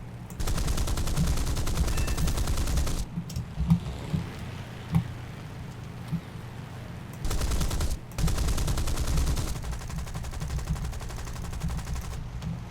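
Long bursts of rapid machine gun fire from a fighter plane in the video game War Thunder, loud and continuous, broken by short pauses with engine drone and scattered impacts.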